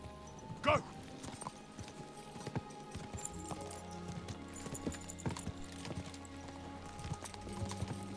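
Horse hooves clip-clop steadily in the Kingdom Come: Deliverance II video game, a continuous rhythmic trot with faint game ambience beneath.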